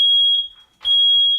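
A piercing, high electronic smoke alarm beeps loudly, two long shrill tones separated by a short gap.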